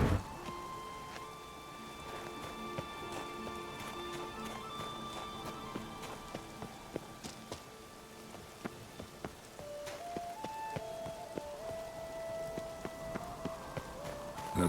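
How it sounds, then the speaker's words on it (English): Steady rain patters throughout a scene in The Witcher 3, with scattered drip-like taps, soft horse hooves clopping and sustained musical tones underneath. "Looks like rain."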